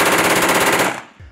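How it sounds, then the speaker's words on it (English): An MG42 machine gun on a battle line fires one loud, rapid, continuous burst lasting about a second before cutting off abruptly. "Hans, he's running the MG42 right down the battle line from me."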